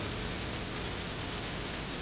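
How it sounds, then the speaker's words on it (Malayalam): A dense, steady hiss of hailstones pattering on surfaces during rain in Taif, loud and continuous throughout. "വീണ് കിടക്കുന്ന ആലിപ്പഴം കണ്ടോ വീണ് തെറിക്കുന്നത് കണ്ടോ ഇതാണ് ആലിപ്പഴം"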